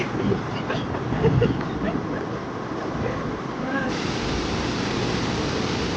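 Rushing water roars at the Teesta barrage as a dense, continuous wash of noise, loud and close, with faint voices briefly mixed in.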